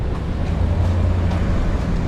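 Steady wind blowing outdoors on a December street in Bar Harbor, Maine, a continuous low rumbling gust buffeting close and loud with no voices.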